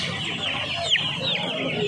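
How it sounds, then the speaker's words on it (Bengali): Australian-breed chicks sold at the Saturday hen market in Uluberia give a run of thin, high chirps and peeps, several in quick succession, over a steady market background. "দেখতে পাচ্ছ এখানে অস্ট্রেলিয়ান মুরগির বাচ্চা রয়েছে 75 টাকা পার পিস"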